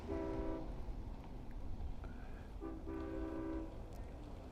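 A Long Island Rail Road train horn sounds at a crossing in two long blasts separated by a pause, fairly close, over a steady rumble of rail traffic.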